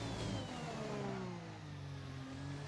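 An F1 car engine in the F1 2021 racing game, driven in the rain, climbs steadily in pitch as the throttle opens, a loud continuous rising drone with layered tonal harmonics and no talk over it.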